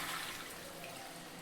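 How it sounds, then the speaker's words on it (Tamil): Rinse water from a mixer jar poured into a cooking pot of fish curry, a steady close splashing gush that runs continuously with no talk. "ஜாரை கழுவி இதில் ஊற்றிடலாங்க,"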